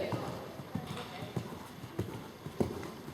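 A ridden horse's hooves clip-clop steadily on an arena surface during a dressage clinic lesson, distinct regular thuds heard at moderate distance beneath an instructor's voice.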